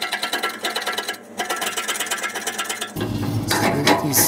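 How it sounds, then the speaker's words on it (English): A tool scrapes buildup out of the burn pot of a Harman pellet stove, a close, rapid rasping with rhythmic strokes and a short pause, turning harsher and brighter toward the end. "you're gonna wanna clean your burn pot. Scrape that out."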